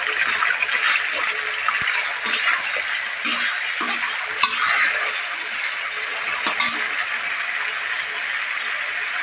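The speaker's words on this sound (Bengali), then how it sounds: "প্রথমে মাংসটা ভেজে নেব।" Meat frying in a pan before noodles are added, a steady broadband sizzle with scattered clicks and stirring scrapes throughout, fairly close and continuous, with no voices.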